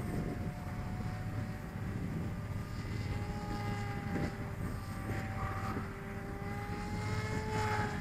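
A Volantex FPV Raptor V2 2000mm RC plane flying after repair, its steady electric motor whine holding a continuous tone with slight pitch shifts over a constant background rumble, heard from a distance with no talk.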